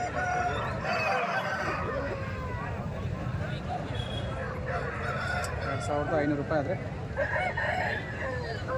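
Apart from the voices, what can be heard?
native roosters crowing at poultry market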